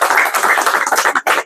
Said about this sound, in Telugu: ఒకసారి అక్కకు చప్పట్లతో